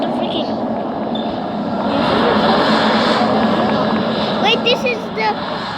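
A loud, steady roar of aircraft engines from an Airbus Beluga fills the air, swelling slightly over several seconds, while people talk excitedly nearby.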